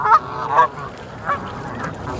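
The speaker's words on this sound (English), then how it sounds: "it is absolutely full, and I mean full of Canada geese" Canada geese honk at a crowded country park, with several loud nasal calls in quick bursts, the loudest near the start and others fainter and further off, and no talking.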